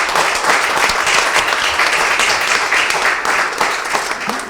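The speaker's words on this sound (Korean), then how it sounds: "모두 그 청년들에게 희망의 박수를 좀 보내주시면 좋겠습니다" Sustained applause from a party meeting audience of the Democratic Party of Korea, cheering young people on the party's founding anniversary; steady, dense clapping that fills the room and tapers slightly at the end.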